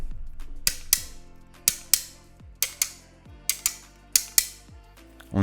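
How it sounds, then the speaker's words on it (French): A MOZA SGP sim racing gear shifter clicks through its gates in about ten sharp mechanical snaps, some coming in quick pairs, each one a crisp metallic clack with a short ringing decay, loud and close in a quiet room. "voilà le bruit que pourrait faire le shifter"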